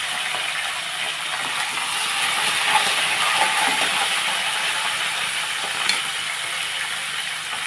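Dried red chillies, curry leaves and chana dal frying in a pan produce a steady, loud hiss and sizzle with fine crackles, unbroken from start to finish.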